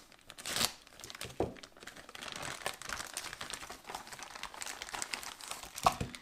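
Plastic packaging of a Polish 24-hour individual combat ration being cut open and handled, giving steady close crinkling and rustling with a few sharper crackles, no speech.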